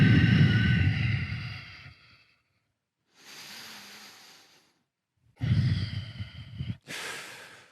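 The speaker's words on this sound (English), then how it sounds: "And 2 strong breaths here." Strong, deep breaths taken during a hip-strength yoga routine: two long, loud inhale-exhale cycles with breathy sighs, separated by short pauses, close and without talk.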